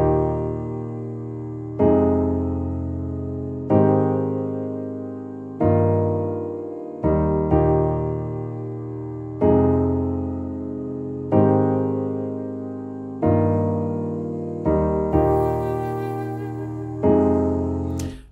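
Layered instrumental backing with a reversed piano sample and other instruments playing together in a steady repeating pattern of swelling chords, each phrase rising and fading roughly every two seconds, loud and full with no voices.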